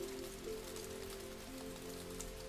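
Silver rain falling through branches and onto leaves makes a continuous soft hiss of fine droplets, close and even, with a quiet sustained hum underneath and nobody speaking.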